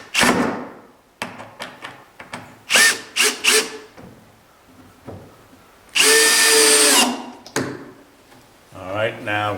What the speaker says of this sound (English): Drill with the countersink bit again.